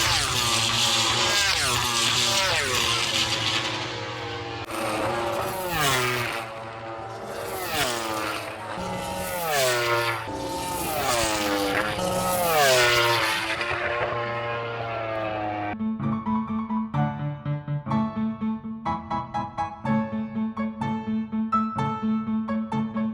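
MotoGP motorcycles on the Silverstone hangar straight, loud high-revving engines screaming with rapid pitch shifts as bikes blast past one after another, followed by a steadier pulsing drone.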